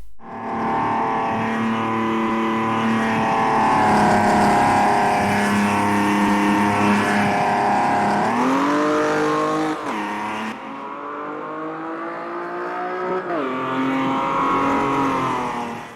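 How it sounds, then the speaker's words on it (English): A Chevrolet Omega's straight-six engine drones steadily in the Automobilista 2 racing game at Londrina Long, a smooth rich hum that rises and falls through gear changes and throttle lifts, with a brief tire squeal. "Straight 6 is purring away in front of us."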